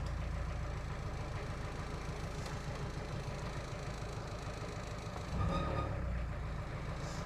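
A diesel car engine with suspected glow plug trouble idles slowly, a faint, steady low rumble that shifts slightly in tone partway through, with no talking.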